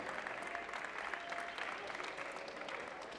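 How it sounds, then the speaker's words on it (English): Steady applause from a crowd at a youth climbing speed finals, sustained clapping at a moderate distance throughout, no voices standing out. "big round of applause"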